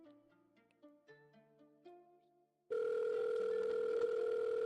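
A telephone call before it goes to voicemail: soft melodic tones give way to a loud, steady ringing line tone that holds for about two seconds, with no talking.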